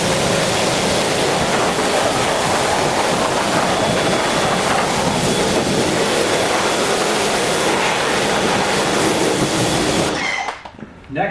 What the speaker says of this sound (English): We've got our pressure washer here.